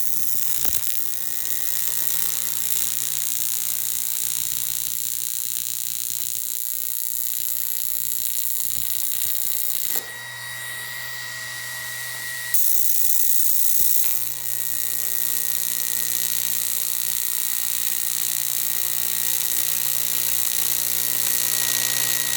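Aluminum TIG welding with a gas lens torch, a steady electric buzzing hum with a high whine that shifts in tone midway for a couple of seconds before resuming, no talk.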